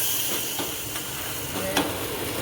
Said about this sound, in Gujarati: હવે આમાં તડકો કરી દઈશું અલગથી આપણે આ તડકો કર્યો છે